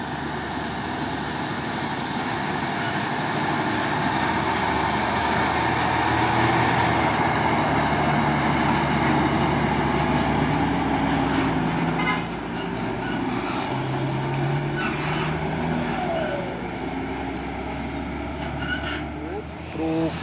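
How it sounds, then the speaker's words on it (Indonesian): A Dino Jember container trailer truck on the road, a steady loud engine drone with traffic rumble and a horn toot, while people talk over it. "Truk trailer kontainer Dino Jember di Euro 4."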